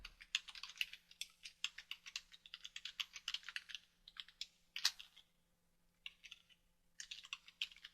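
Someone types values into Revit on a computer keyboard, producing quiet, close, rapid key clicks in bursts separated by short pauses.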